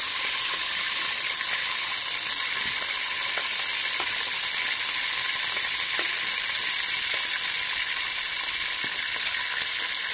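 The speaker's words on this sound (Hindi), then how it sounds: "घी हमारा बिल्कुल गर्म हो गया, तो इसमें डालेंगे प्याज" Onions frying in hot ghee, a loud, steady, dense sizzle throughout with faint occasional clicks and stirring taps.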